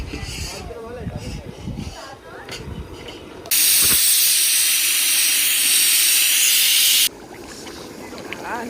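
A pressure cooker lets off a loud, steady jet of steam for about four seconds, with people talking in a kitchen before and after it.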